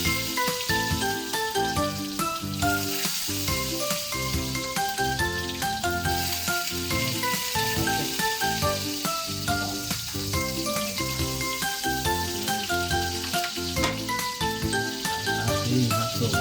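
Hotdogs frying in spattering cooking oil, giving a loud, continuous close-up sizzle with crackles and pops, while tinkly music plays throughout.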